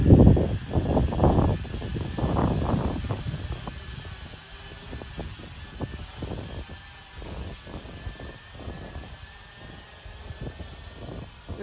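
A Ruko U11 GPS drone flies toward a waypoint in windy outdoor conditions, its engine a steady buzz. A few loud wind gusts hit early on, then the buzz settles into a fainter, even drone.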